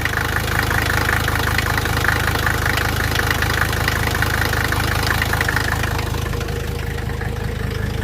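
Cold Mercedes 300TD wagon with an OM617 diesel engine idling, a steady loud clatter with a knocking pulse that runs evenly for the whole stretch, no voices over it.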